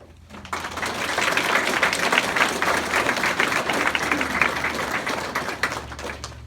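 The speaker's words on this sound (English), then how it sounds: "let's have a round of applause for our friends, family, and faculty sitting here today" Audience at a nursing graduation ceremony breaks into steady applause, dense clapping that swells quickly, holds for several seconds, then fades slightly at the close.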